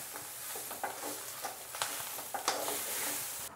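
Grated medium coconut and chillies fry in a pan with a soft, low sizzle, broken by a few scraping stirs of a spoon, quiet and close with no talking.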